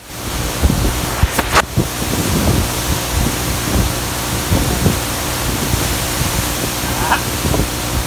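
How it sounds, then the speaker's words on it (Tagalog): Strong wind roars at Poocan Falls, buffeting the microphone with continuous loud broadband rush and thumping gusts, mixed with the steady wash of falling water. "ang lakas ng hangin"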